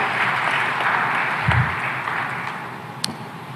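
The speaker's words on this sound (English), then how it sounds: "A big round of applause for her as well" A large audience applauds a vice president of the International Fund for Agricultural Development at a public event in Dar es Salaam, a steady, even wash of clapping that lasts the whole stretch.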